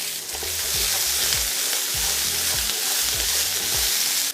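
Red and green peppers hitting hot olive oil in a pan for a boniato hash, giving a loud, steady sizzle with repeated stirring scrapes, no voices.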